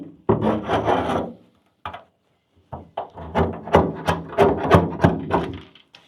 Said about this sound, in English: So I'm going to do my best to get all this scraped off, cleaned.